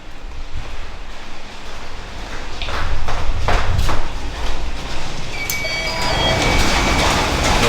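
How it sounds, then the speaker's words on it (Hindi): Steady rain falls outside a house in Russia, a broad continuous hiss with water running and splashing nearby, rising slightly louder midway, with faint tonal sounds near the end. "बाहर से कैसा लग रहा है बारिश होते हुए।"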